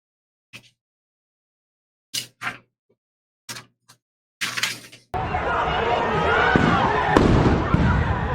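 Flash bang grenade going off during a Seattle protest: after a few brief scattered sounds, a sudden loud blast hits midway and gives way to a sustained roar of crowd noise and commotion.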